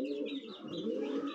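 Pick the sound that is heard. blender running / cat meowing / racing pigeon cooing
racing pigeon cooing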